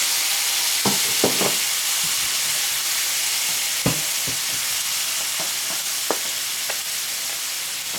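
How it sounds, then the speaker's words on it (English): Radish sautéing in butter gives a continuous sizzle and hiss, broken by occasional sharp clicks and scrapes of a utensil stirring the pan, close and fairly loud with no voices. "To the butter, we're going to saute the radish."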